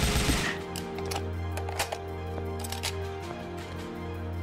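Rapid gunfire in the Gears of War video game, a dense crackle of repeated shots over a steady low droning hum, loud and continuous throughout.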